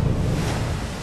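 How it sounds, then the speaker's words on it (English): An ocean wave crashes on rocks along the coast of Acadia, Maine, a loud, close roar of churning water and spray with heavy low rumble, sustained across the short moment. "I was looking for an impact of a wave crash that doesn't sound like it's hitting a beach and washing away, but it's actually hitting something hard."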